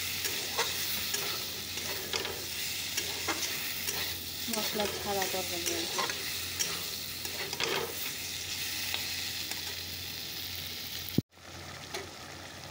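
Vegetable curry with salt and turmeric fries and gets stirred in a pan, a steady close sizzle with repeated scraping stirs, briefly under a short spoken remark, before cutting off abruptly near the end.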